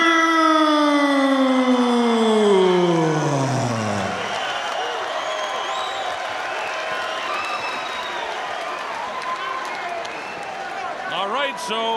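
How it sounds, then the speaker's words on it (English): A boxing arena crowd in Auckland roars in a frenzy before a heavyweight fight, preceded by a loud descending siren-like horn sweep; the sustained dense crowd noise stays loud throughout, with a voice faintly heard within it. "The crowd is in a frenzy"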